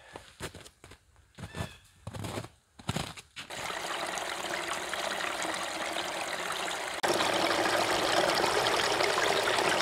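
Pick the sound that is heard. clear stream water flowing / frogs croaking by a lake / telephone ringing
clear stream water flowing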